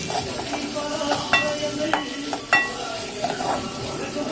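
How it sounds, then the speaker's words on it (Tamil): Asafoetida sautéing in hot oil for Tirunelveli-style tomato kadamba, a steady close sizzle with a few sharp spoon scrapes and stirring clinks against the pan. "ஒரு சிட்டிகை போதும் காயப்பொடி போட்டுட்டு நல்லா வதக்குங்க"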